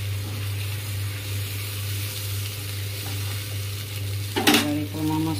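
A pan keeps sizzling steadily after a little water goes into the cooking, a constant hiss with a brief clatter near the end.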